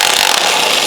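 Stubby wrench straining against a stuck bolt on a wrecked Honda Civic, a continuous loud harsh grinding rasp of metal for under a second.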